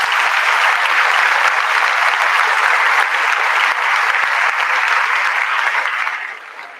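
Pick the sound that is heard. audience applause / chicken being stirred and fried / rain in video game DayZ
audience applause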